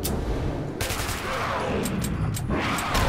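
A mounted machine gun in Metro 2033 Redux hammers out loud, rapid bursts, with short breaks between volleys and sharp high clicks near the end.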